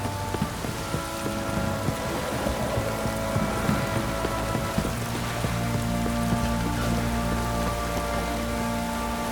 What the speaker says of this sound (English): This downpour.